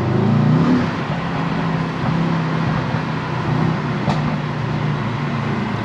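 A 2022 Mercedes-AMG E63S driving with its engine droning loud and steady from inside the car, a brief rise in revs at the start, then a constant hum.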